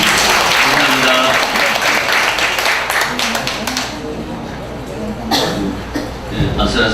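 An audience at a Benedictine oblates' assembly claps after a group presentation, a loud burst of applause that fades over several seconds, followed by a brief voice and a few stray sounds.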